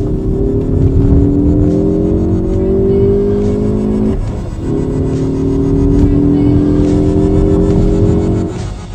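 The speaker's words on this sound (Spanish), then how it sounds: "Sigamos disfrutándolo y vayamos a escuchar el motor," A Ford Focus ST engine revving hard, a loud sustained drone that climbs in pitch, dips briefly, then climbs again, alone with no talk.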